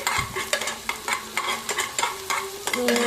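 Mustard and cumin seeds sizzle and crackle in hot oil while being stirred in a pan, a close, steady fry broken by repeated stirring scrapes.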